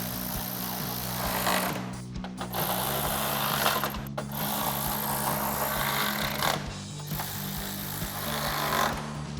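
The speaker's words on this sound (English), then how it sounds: "we'll grab our ratchet and 10mm socket" A ratchet fitted with a 10mm socket backs out bolts on the grille area of a 2019-2024 RAM 1500 pickup, producing dense, continuous mechanical rattling and clicking up close, with a few brief pauses, no talking.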